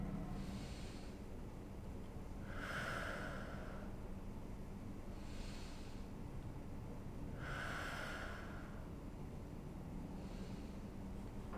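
Slow, deep belly breathing, close and quiet: several long, airy inhales and exhales in an even, unhurried rhythm with nothing else around.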